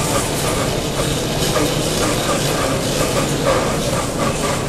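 A Vitamix blender runs loud and unbroken, whipping cream into butter, a dense churning roar with no pauses or talking.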